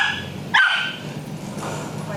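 A dog gives a single sharp bark during obedience training, short and fairly close, followed by quieter background noise.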